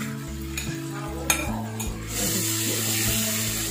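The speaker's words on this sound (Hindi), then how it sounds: "इसको मिक्स करके और इतना कुक करेंगे कि ये हमारा चिकन अच्छे से टेंडर हो जाए" Marinated chicken is stirred into softened tomatoes in a pan, a spoon scraping and clinking against the metal before a steady sizzle of frying takes over, close and continuous.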